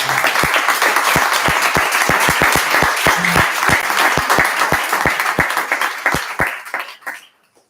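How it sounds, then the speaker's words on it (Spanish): An audience at a book presentation breaks into warm applause, dense overlapping clapping with sharp individual claps standing out, holding steady before thinning and fading away at the end. "un aplauso para Luis"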